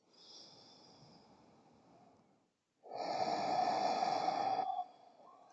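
Slow, deep breathing held through a yoga pose: a soft, airy breath first, a brief silence, then a louder, fuller exhale or inhale lasting about two seconds before easing off, close and alone without talk.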